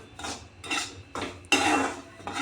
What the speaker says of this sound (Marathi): त्याला मी छान असं भाजून घेणार आहे।